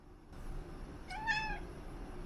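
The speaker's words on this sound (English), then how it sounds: "He's such a large cat, it's incredibly funny to hear him have such a dainty meow." A large male polydactyl cat gives a single short, dainty meow, close and clear, rising and falling over a quiet room.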